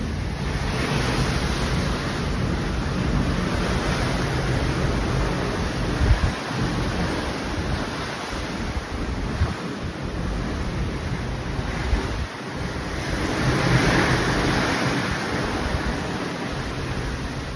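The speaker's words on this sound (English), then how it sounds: "You could probably tell it's pretty loud and there's a good wind when you're out to sea." Strong wind and rushing sea heard from a cruise ship balcony out at sea, a loud steady roar of wind buffeting the microphone over churning water, continuous throughout with no voices.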